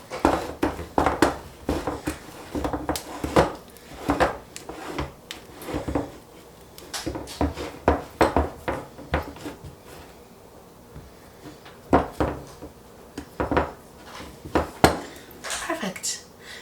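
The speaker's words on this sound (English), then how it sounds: "Next, just press the crust into the pan, going up the sides ever so slightly to give it a little bit of an edge." A cheesecake crust is pressed into a pan with a run of irregular knocks, taps and scrapes against the pan, close and fairly crisp.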